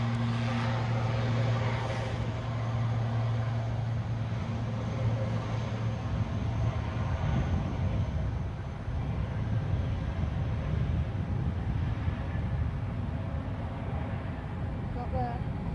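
An Aer Lingus airliner heading for Dublin at Edinburgh airport gives a sustained jet rumble and roar with a droning tone early on, mid-distance and steady, while a voice talks intermittently over it.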